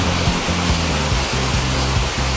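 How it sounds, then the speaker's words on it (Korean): Water from an artificial waterfall on the Mungyeong Saejae trail in Korea rushes in a loud, continuous roar, with a few low tones faintly underneath. "이처럼 시원스러운 인공폭포도 만들어져 있고"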